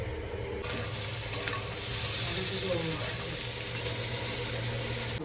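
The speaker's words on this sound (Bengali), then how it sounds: "এই দেখো সমস্ত মশলা টশলা দিয়ে এটাকে কষিয়ে নিচ্ছি" Ground spices, coriander powder among them, sauté in a hot pan for egg curry, giving a steady, close, loud sizzle and hiss with occasional stirring scrapes throughout.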